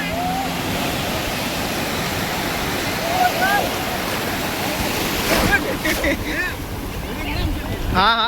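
Sea waves wash steadily at Nagaon beach, a broad continuous roar of surf mixed with wind rumbling on the microphone, with a few faint distant voices and whistles.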